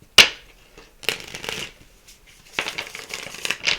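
A deck of location cards is shuffled in a few quick riffles, each a short papery flutter. The bursts are close and separated by brief pauses, with no talk.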